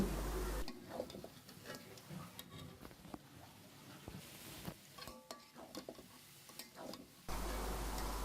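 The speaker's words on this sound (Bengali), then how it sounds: "এরপর খুব ভালোভাবে নেড়েচেড়ে মিশিয়ে নিচ্ছি" A spoon stirs spice powder through a restaurant-style bhuna in a pan. Scrapes and clicks against the metal come irregularly over a soft sizzle, with quieter pauses between the strokes.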